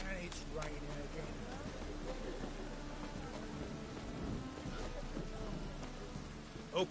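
Rain falls steadily in the video game Witcher 3, a soft continuous patter with a faint low rumble, partly under people talking.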